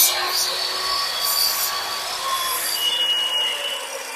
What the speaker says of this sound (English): But, I use a chop saw. Hold your ears for a second.